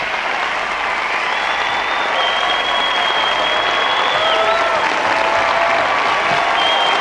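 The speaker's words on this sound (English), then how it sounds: "Jill Chenry leading the applause, and everyone is standing." Olympic ice dance medal ceremony crowd at the 1994 Lillehammer Winter Games applauding on their feet, a loud, sustained roar of clapping filling the arena with faint whistles and cheers above it.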